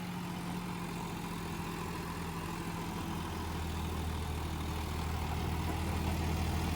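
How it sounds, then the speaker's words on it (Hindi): Steady low drone of a John Deere 5210 50 HP tractor engine under heavy load, pulling an 8-foot rotavator and a soil trolley in a field, with a constant hum that swells slightly toward the end. "भाई ट्रैक्टर पे दुगना लोड पड़ रहा, एक तो रूटावेटर का और दूसरा एक बुग्गी मट्टी खींचने का।"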